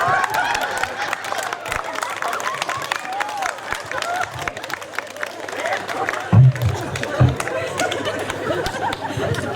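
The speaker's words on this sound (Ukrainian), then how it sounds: "Ваші оплески!" Audience applause at a village talent show festival, a steady wash of clapping and crowd chatter lasting several seconds, with a few louder thumps near the end.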